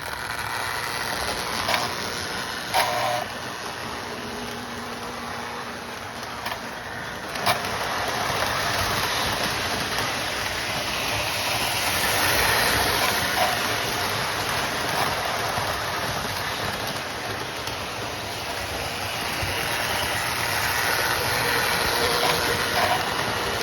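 A Marx 1829 toy steam locomotive circles the inside oval of a 4x8 layout, giving off a steady, continuous whirring rattle of motor and wheels on track, moderately close, with a few faint clicks and no talking.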